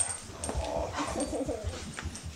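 A dog whimpers faintly in short, soft cries close by, with light rustling and handling noise around it.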